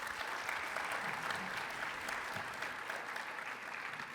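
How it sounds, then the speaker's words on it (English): Audience applause for a flute musician at an evening music performance, a steady dense wash of clapping from a crowd, sustained and even throughout. "Please give him a big round of applause."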